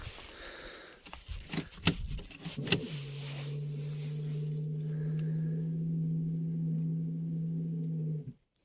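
The electric parking brake motor of a Renault Scenic 2 whirs steadily for about five seconds after a few clicks and knocks, then stops abruptly. It is faint to moderate and there is no talking.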